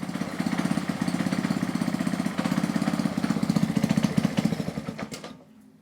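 A Ryobi pressure washer's small engine idles with a steady, rapid chugging pulse, loud and close, then winds down and cuts out near the end.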